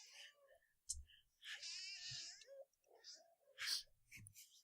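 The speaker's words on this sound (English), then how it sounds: "My cat jumped up on my chair and was trying to yell at me." A cat yowls in a few short wailing, moaning bursts close by on a chair, with soft indoor rustles between the cries.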